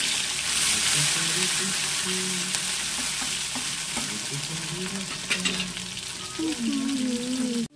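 Prawns frying in a pan of hot oil, a steady close sizzle with scraping stirs, while a tonal hum and faint background voices run underneath.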